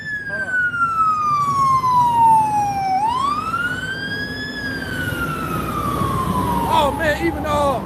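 A fire department siren wails loudly as the vehicle passes close by, its pitch sliding down, sweeping back up, then falling again over steady traffic rumble.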